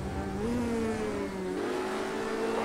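A Formula Renault 3.5 race car engine in Project CARS 2, racing in Portugal, holds a loud, steady high-pitched whine that rises and shifts as the car accelerates down the first straight, heard alone.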